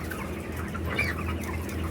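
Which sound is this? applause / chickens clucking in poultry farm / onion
chickens clucking in poultry farm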